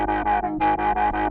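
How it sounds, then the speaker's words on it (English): A Kilohearts ONE synth plays a chain of short, evenly pulsing chords with a shimmering, doubled chorus effect texture, loud and alone. "above there's some chorus which we can dial in like this"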